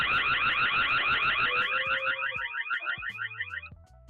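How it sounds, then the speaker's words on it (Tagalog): Electronic siren-style alarm from a Tapo C216 security camera, a rapid warbling pulse repeating steadily for about four seconds, loud and close, then cutting off with faint handling noises. "So, ganyan kalakas yung ating alarm guys."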